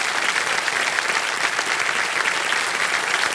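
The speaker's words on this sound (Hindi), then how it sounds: "तालियां बज जाए इनके लिए।" A studio audience on Kaun Banega Crorepati, a TV quiz show, gives steady, full applause, a dense wash of many hands clapping at an even level.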